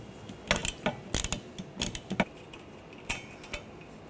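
A 15mm socket wrench loosens a nut on a transmission mount of a 2013-2019 Ford Escape 2.0L, giving several short, close metallic ratcheting clicks in small bursts with pauses between them.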